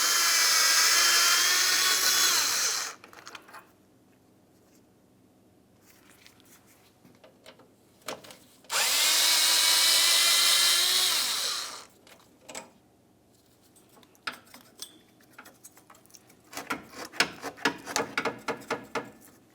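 A power tool spins out 10mm bolts holding the power steering cooler on a 2000-2006 Chevrolet Tahoe, two loud whirring bursts of about three seconds each, separated by quiet clinks, ending in a flurry of small metallic taps.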